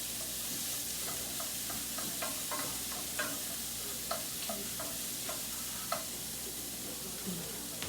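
Garlic sizzling in hot oil in a frying pan during home cooking, a steady soft hiss with light clicks of a utensil stirring, quiet and close with no talk.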